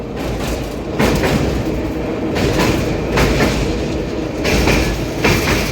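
The new Amrit Bharat 2.0 Express on its inaugural Thiruvananthapuram–Charlapalli run rumbles loudly and continuously from on board, with rhythmic wheel clacks rising and falling and no voices.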